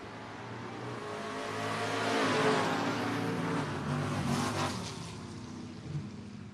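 At a drag race, a pickup truck and a Chevelle launch off the line, a roaring engine rush that swells over two seconds then holds and fades slightly, heard from a distance without talk.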